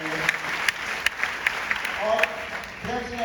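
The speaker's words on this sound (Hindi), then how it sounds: "तो स्मार्ट वैल्यू सिस्टम के लिए पर जोरदार ताली होनी चाहिए।" A meeting audience at a Smart Value company event gives applause for the Smart Value system, heard as scattered, sharp hand claps at fairly regular intervals mixed with voices.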